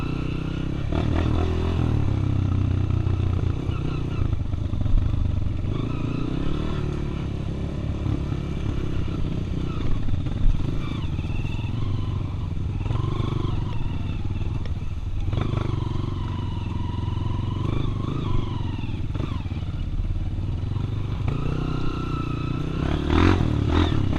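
A Honda Tornado 293 cc motorcycle rides a dirt trail, its engine droning steadily for the whole stretch with rises and dips in revs and occasional clatter from the rough ground.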